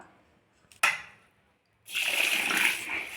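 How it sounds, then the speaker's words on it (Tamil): Water is poured over ration rice in a bowl for rinsing: a brief splash, a short pause, then a louder rushing pour that runs on to the end. "இப்போது இப்படி தண்ணி ஊற்றிட்டு இந்த அரிசியை இங்கே பாருங்கள் நல்லா இப்படி அழுத்தி பிணைஞ்சு கொடுங்க"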